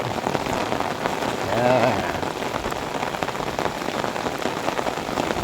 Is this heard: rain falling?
yes